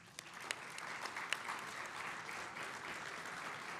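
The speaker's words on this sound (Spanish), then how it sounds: "Para todas ellas, un fuerte aplauso" Audience applause at a public event in Mendoza on digital government and artificial intelligence, a quiet, even round of clapping from a distant crowd with a few sharper claps standing out early.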